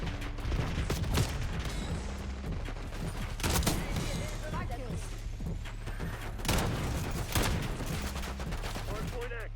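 Gunfire from the Essex Model 07 in the Call of Duty game Black Ops 6 during a Hardpoint match, repeated bursts of shots over a dense, noisy battle mix, with a player talking over it.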